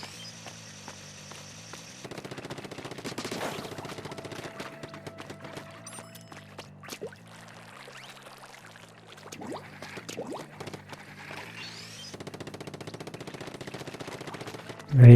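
Rapid burst weapon fire in the video game Splatoon, a quick stuttering string of shots repeating over game music and effects, with a loud splash at the very end.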